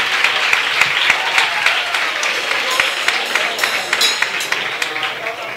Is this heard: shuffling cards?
no